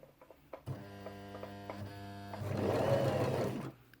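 A Janome FD206 sewing machine stitches with a steady motor hum and rapid needle chatter, running continuously and growing louder and busier near the end before stopping, close by with no talking.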